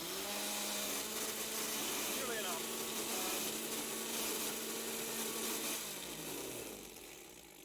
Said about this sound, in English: the first device we're going to plug in is a blender